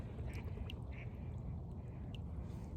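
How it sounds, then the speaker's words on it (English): A flock of about twenty mallard ducks flushes from water during an afternoon hunt, with several scattered quacks at moderate distance over a steady rushing background. "20 birds kicking up."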